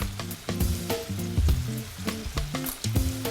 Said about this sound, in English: So I'm just going to cook this with the lid on for about 10 minutes until the zucchini gets a little bit cooked.